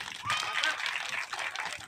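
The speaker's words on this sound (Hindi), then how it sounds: "सभी बच्चे जोर से ताली बजाइए।" Children applauding at a school Independence Day program, a steady, fairly loud wash of clapping filling the whole moment, with faint voices mixed in.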